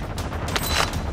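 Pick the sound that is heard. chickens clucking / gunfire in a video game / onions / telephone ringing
gunfire in a video game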